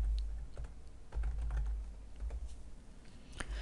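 Rapid computer keyboard typing during data entry in a database form, with irregular clicking keystrokes over a low background rumble and no talking.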